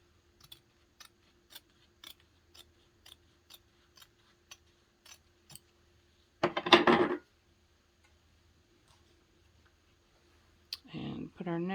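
Scissors trim excess fabric from a quilted clutch panel in a run of evenly paced crisp snips, followed by a person speaking.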